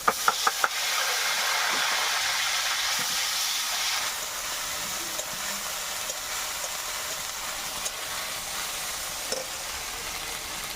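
Onion paste hits hot oil in a wok with a few sharp knocks, then settles into a steady, loud sizzle and hiss of frying that continues throughout, with occasional clinks.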